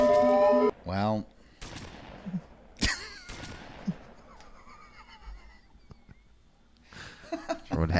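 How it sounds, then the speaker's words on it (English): Gunfire in a video game, a few quick sharp bursts that sound light and weak, like a pea shooter, mixed with other game sounds and effects, with quiet stretches between. "These are very delicate gunshots."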